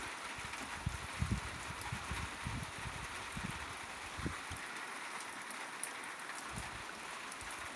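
Steady rain falls outdoors in autumn near a porch, a continuous broadband patter with scattered low thumps of drops hitting surfaces, moderately loud and constant throughout, with no voices.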